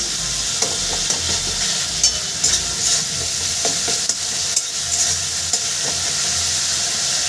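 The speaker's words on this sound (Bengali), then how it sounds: "মশলাটা সুন্দর করে কষিয়ে নেবে" Spice paste with green chilli sautéing in a pan for katla fish curry, a loud continuous sizzle broken by frequent spatula scrapes and clicks against the pan, no one speaking.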